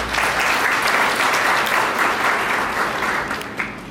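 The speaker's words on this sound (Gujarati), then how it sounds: "વિનંતી કરું છું કે સંસ્થા માટે જોરદાર તાળીઓ દે" An audience applauds an organization at a Vankar community service association's education-aid event, steady dense clapping that fills the whole stretch, loud and close, easing slightly toward the end.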